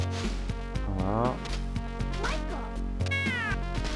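Synthesized cat meows from the Moonwalker video game, several sliding yowls layered over driving game music with a regular beat, loud and up front.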